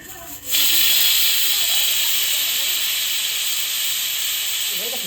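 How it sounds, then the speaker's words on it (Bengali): A pressure cooker cooking mutton vents steam in a loud, steady, rushing hiss that starts abruptly after a brief pause and holds at full strength to the end. "তিনটে চারটে সিটি দিয়ে দেবো"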